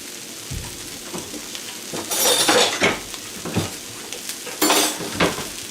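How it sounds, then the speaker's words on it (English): Noodles sizzle and crackle in hot peanut oil in a pan while long chopsticks stir and toss them, with swells of sizzling and occasional light clinks of the cookware, close and clear. "I just take one of these long pairs of chopsticks, or you can use regular chopsticks. I just mix it up so it evenly mixes the noodles."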